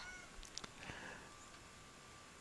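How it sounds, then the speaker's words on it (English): A house cat gives a short meow or two, faint and slightly distant, over a quiet room hum with no talking. "That was one of my two cats."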